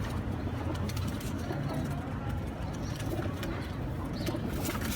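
Pigeons of original show breeds coo in low repeated bubbling calls, close and continuous, over a busy background of engine and street noise.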